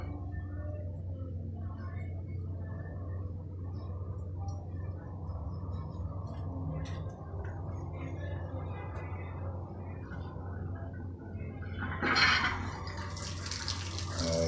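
A newly installed hot water tap fed from a rooftop barrel runs with a faint, steady low flow for several seconds, brightening into a louder splashing gush near the end.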